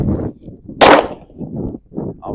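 A single sharp handgun shot fired at about ten yards on a shooting range, a loud broadband crack in the middle, with quiet voices murmuring before and after.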